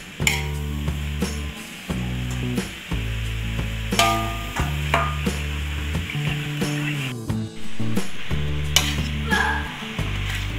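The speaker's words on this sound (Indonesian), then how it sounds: "Kita aduk sampai merata." A spatula stirs a noodle seasoning mixture for Javanese bakmie in a frying pan, with a steady loud sizzle under repeated scraping strokes across the pan, no talk.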